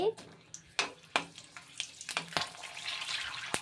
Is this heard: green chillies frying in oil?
yes